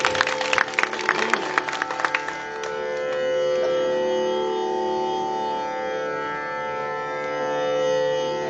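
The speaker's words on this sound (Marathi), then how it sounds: "जोरदार टाळ्या वाजवून सगळ्यांना दाद द्या आणि कार्यक्रमाची शोभा वाढवा." Audience applause at a Marathi stage programme, dense clapping loud at first then settling into a sustained wash of crowd noise mixed with steady tones.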